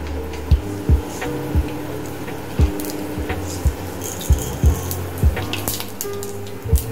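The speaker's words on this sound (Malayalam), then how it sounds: "കടുക് പൊട്ടി തുടങ്ങുമ്പോൾ" Mustard seeds pop and crackle in hot coconut oil in a pan, each seed bursting in a sharp, close pop at an irregular pace over a low steady sizzle, with no talking.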